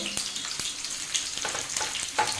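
Onions, ginger and garlic frying in a pan for a restaurant-style mutton ghee tawa fry, a steady crackling sizzle broken by sharp spatula scrapes and stirring clinks.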